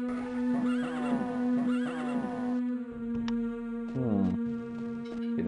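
A horse whinnies loudly twice in the game Daggerfall, with a shorter neigh near the end, over a steady tonal drone and a few sharp clicks.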